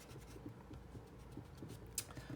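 A pencil sketch is erased with quick, soft rhythmic rubbing strokes on paper, faint and close, ending with a small sharp tap.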